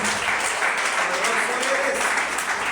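Church congregation applauding the Lord during a sermon, a dense continuous wash of clapping that fills the room, with a voice faintly mixed in.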